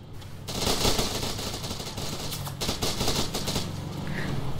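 SMG gunfire in the Arma video game during a night mission: rapid bursts of automatic fire, fairly close and loud, rattling in uneven clusters over a continuous background of battle noise.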